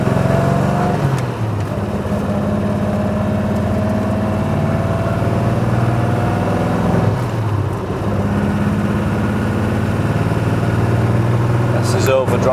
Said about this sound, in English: a quick drive down a national speed limit road so that you can hear it go through the gears.